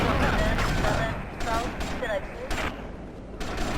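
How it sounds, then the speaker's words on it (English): Heavy gunfire rattles in GTA Vice City, with repeated bursts of shots coming in clusters over a dense, noisy game background. "I am being shot at quite heavily by all kinds of unpleasantness"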